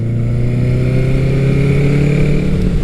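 A Honda CB900 Custom four-cylinder motorcycle engine pulls above 4,000 RPM with a loud, steady, smooth hum whose pitch rises slowly as it gains speed, recorded close and with no talk.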